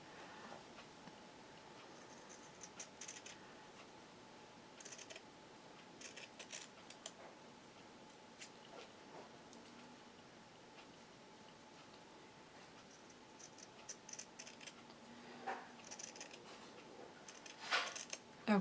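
Scissors snip through quilt fabric, trimming a block for a calico cats quilt in a quiet room, giving a few faint, scattered clicks and short cuts with long pauses between them.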